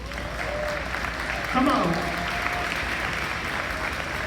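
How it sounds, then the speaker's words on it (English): Graduates at a Black Student Union commencement ceremony applaud themselves, a broad crowd clapping that swells partway through and continues steadily, with a voice briefly urging them on. "I want you to give yourself a round of applause"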